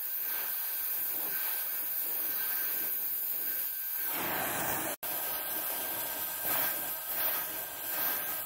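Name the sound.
torch heating a tack weld on a water pipe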